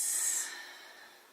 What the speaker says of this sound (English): Open mouth exhales to release.